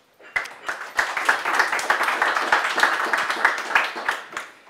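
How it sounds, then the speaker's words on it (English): An audience at a firmware conference gives a round of applause for a speaker from Arm, clapping rising quickly to a steady, fairly close burst of individual claps before tapering off at the end. "Give a big round of applause for her"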